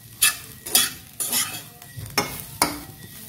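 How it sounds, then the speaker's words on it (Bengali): Semolina stirred with mixed vegetables in a pan for spiced sujir pulao, about six distinct scraping strokes of a spoon at an even pace over a soft sizzle, close up. "সুজিটা আমি সমস্ত সবজির সাথে ভালোভাবে মিশিয়ে নিলাম।"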